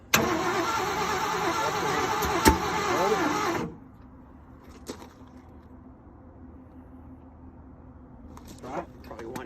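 A 1981 Ford F-350 with a freshly rebuilt 351M engine cranks loudly for several seconds on its first start attempt, then cuts off abruptly, leaving a quiet background with a few faint clicks and knocks.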